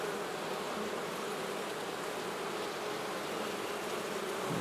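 Honey bees buzz in an opened hive being checked during swarm control, a dense, steady hum heard close up that continues without a break.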